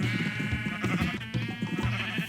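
Sheep bleating in the Minecraft video game, several short wavering bleats overlapping in quick succession over a steady background of game music, loud and close with no talk.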